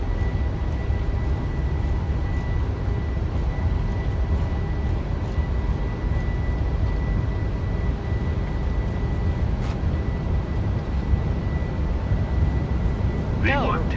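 A Boeing 737's jet engines spool at takeoff thrust in a flight simulator, a steady, loud, broadband roar with a faint whine that holds constant throughout, followed by a brief sweeping sound near the end.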